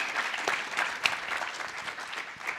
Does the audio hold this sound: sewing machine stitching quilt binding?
no